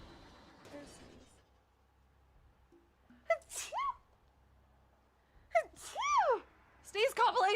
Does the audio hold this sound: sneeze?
yes